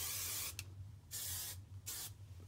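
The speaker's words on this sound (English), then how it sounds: "I will put some hairspray in it" Three short hissing bursts of Bedhead Masterpiece hairspray misted onto hair, close and fairly quiet, with brief gaps between the sprays.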